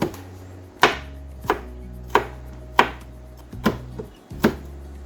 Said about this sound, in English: I'm just going to take my knife, give them a little munchin